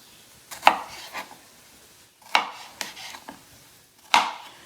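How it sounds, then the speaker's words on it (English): A knife chops a pepper on a board in a few sharp, close strikes, spaced irregularly with brief quiet gaps between them. "all you have to do is chop your pepper up like this"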